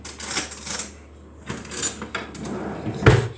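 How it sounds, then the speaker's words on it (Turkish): Kitchen drawer being opened and a spoon lifted out, scattered metallic clinks and rattles of cutlery with a sliding drawer and a sharper clack near the end, close and moderately loud, no talking. "Şimdi şuradan kaşık alacağım."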